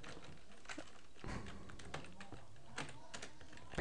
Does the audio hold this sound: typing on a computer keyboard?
yes